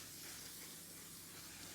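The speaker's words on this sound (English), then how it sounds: "And my favorite setting spray right now." Setting spray misted onto a face gives a steady, soft, airy hiss lasting about two seconds, quiet and unbroken, with no talking.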